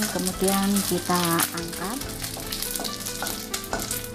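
Anchovies fry in hot oil with a steady, loud sizzle throughout, joined by stirring clatter while a voice speaks briefly over the cooking.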